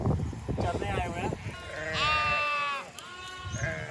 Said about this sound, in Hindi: यहाँ पे बहुत सारे भेड़ और बकरे चरने आए हुए हैं।